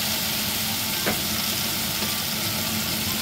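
Chicken feet stirred and fried in a pan, a steady close sizzle throughout with a brief scrape of the spoon near the middle.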